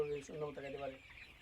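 Tiger chickens on a farm cluck in a short burst of close, fairly quiet calls, with a voice mixed in beneath the birds.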